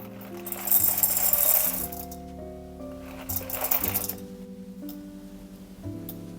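A 1zpresso K-Plus hand grinder grinds espresso coffee with steady, rattling, ratcheting crunches in bursts. Sustained music plays beneath the grinding.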